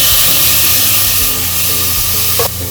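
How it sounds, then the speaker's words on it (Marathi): Water heating in a pressure cooker for chicken biryani with ginger-garlic paste and tomato gives off a loud, steady hiss and rush, with a low rumble underneath and a brief knock near the end. "पाणी उकळतंय"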